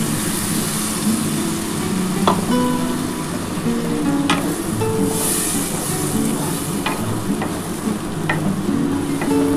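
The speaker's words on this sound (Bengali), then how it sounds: "আমি এই মশলার জলটা ঢেলে দিচ্ছি" Water is poured into frying spice masala for a tilapia and potato curry, raising a steady loud sizzle with scattered clicks and stirring scrapes throughout.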